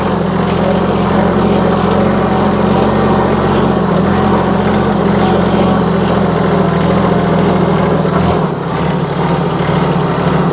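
A loud, steady diesel rumble of a tractor engine running close by during tilling and potato planting, droning continuously with a slight drop in pitch near the end as it is shut off.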